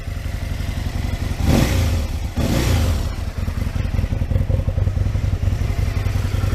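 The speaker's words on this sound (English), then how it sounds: "just warming me bike up" A Yamaha Thunderace motorcycle engine warming up, idling with a steady throbbing rumble close by, rising in two brief revs before settling back to a rough, pulsing idle.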